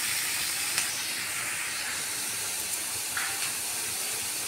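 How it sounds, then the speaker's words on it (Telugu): Onions and other ingredients for an onion chutney frying in a pan, giving a steady, soft hiss and sizzle with a few faint clicks. No one speaks. "ఇవన్నీ వేగుతున్నాయి."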